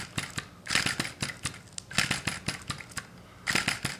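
Rhythmic mechanical chugging and clattering of a small Sai Hu V1-45 vacuum engine being cranked, with irregular bursts as it sputters and tries to catch.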